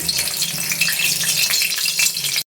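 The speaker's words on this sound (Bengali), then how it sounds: "তেল গরম বসিয়ে দিয়েছি, এখন ফোড়নটা দিয়ে দিচ্ছি।" A whole dried red chilli is tempering in hot oil for a Bengali moong dal with mixed vegetables, giving a steady, close hiss of frying that holds without a break and then stops abruptly.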